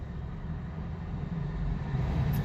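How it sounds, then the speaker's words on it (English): A big truck rumbles around a roundabout in Wickenburg, Arizona, a low steady engine drone at moderate distance, swelling slightly as it passes, with no talk. "big truck coming around the roundabout."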